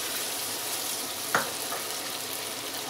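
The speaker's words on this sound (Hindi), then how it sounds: "गोश्त को ब्राउन होने तक भूनेंगे।" Mutton fries with ginger garlic paste in a pan, a constant dense sizzle with one brief scrape or stir partway through.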